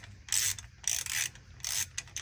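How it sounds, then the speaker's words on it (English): Ratchet wrench clicking in several quick bursts while loosening a transmission pan bolt under a 2011 Jeep Wrangler, close and fairly loud with brief pauses between strokes. "Take this bolt right here off."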